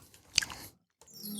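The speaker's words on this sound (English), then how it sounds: "I'm chewing my protein bar" Someone bites and chews a protein bar up close, giving a short crunchy burst, a brief pause, then more soft chewing.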